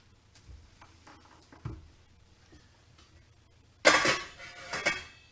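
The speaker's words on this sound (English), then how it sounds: "I'm going to take it and put it in a pan" Meat drops into a pan with a sharp clatter of metal cookware, preceded by a few soft kitchen taps and clinks, all close and without talk.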